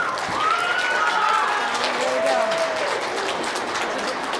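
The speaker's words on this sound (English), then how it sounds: "One more big applause" A crowd at a Battle of the Books competition trophy presentation claps steadily, with whoops and whistles rising over the wash of applause. A voice briefly speaks near the start.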